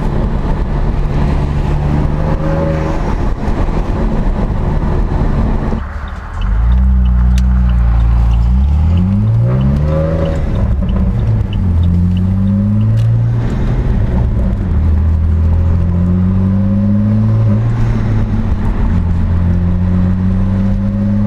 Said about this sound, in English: Curious as if you guys could hear the turbo there from the intake.